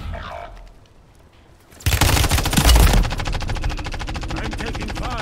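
Rapid automatic gunfire erupts in a Call of Duty: Warzone match, a loud, dense burst of shots that starts abruptly after a quieter lull and keeps rattling steadily to the end.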